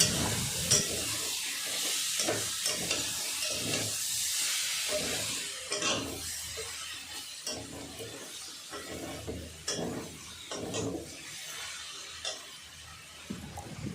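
Cooked mung dal being stirred in a pan after its water has dried off, heard as a soft hiss with a run of repeated scraping and thudding strokes, close and moderately loud, without speech.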